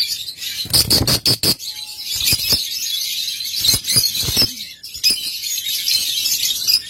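Lovebirds chirping up close, rapid high-pitched tweets in quick clusters and trills repeating through the moment, loud and busy with no talking.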